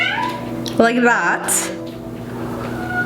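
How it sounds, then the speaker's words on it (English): A female cat meows indoors in a rising and falling wail, close and clear, under and between a woman's chatter during a makeup routine. "so if you guys hear meowing"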